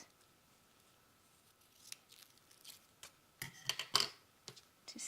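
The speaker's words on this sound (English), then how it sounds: "so I'm just going to cut more of this" Scissors snipping through paper while embellishing junk journal pages, a few soft, quiet cuts and crinkles building toward a cluster of sharper snips near the end, with no talking.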